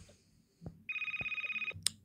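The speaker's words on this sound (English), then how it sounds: "Text message." A phone's text message notification plays once, a bright electronic tone with a fast pulsing warble lasting most of a second, then a short high chime, fairly faint against quiet room noise with a few soft clicks.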